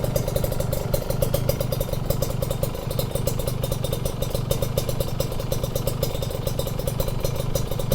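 A Kawasaki Ninja 150 two-stroke fitted with a PWK 28 Sudco carburetor idles close by with a rapid, even, rattly putter held steady throughout.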